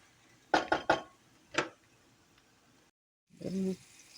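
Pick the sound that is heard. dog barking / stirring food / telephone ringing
stirring food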